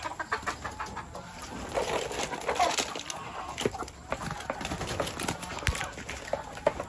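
Chickens cluck and chatter nearby in a busy yard, with scattered short calls and background rustling throughout.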